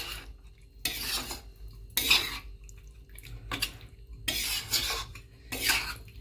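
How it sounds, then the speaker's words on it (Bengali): Chicken meat for Bihari chicken curry being mixed by hand with marinade in a bowl, giving a few separate bursts of wet squelching and scraping, close up, with quiet gaps between them and no talking. "এবার এটাকে পুরো মাংসটার সাথে ভালো করে আমি মাখিয়ে নেব।"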